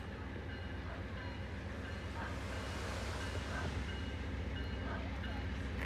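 An Amtrak Empire Builder passenger train pulls out at Carkeek Park, a steady rumbling roll of wheels and cars with faint clicking, moderately distant and unbroken.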